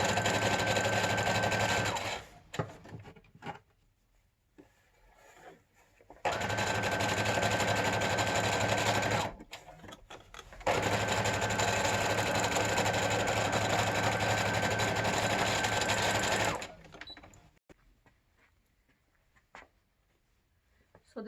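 A sewing machine stitches the seams of a PPE surgical gown in three long, steady runs of even buzzing, separated by quiet gaps with faint handling and clicks.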